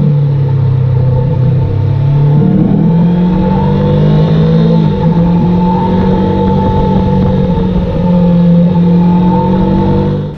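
Honda CB500F Hornet motorcycle engine running steadily with a low, continuous rumble and slight rises in revs, loud and close throughout with no voices.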